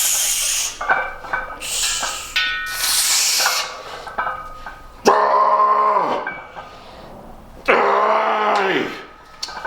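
A dog in a home gym gives drawn-out, groaning, growl-like vocal calls in several separate bursts, with two louder, sharper outbursts near the end, heard close by.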